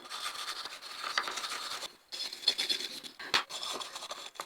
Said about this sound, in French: Ils disent qu'il est impératif de passer la brosse alu avant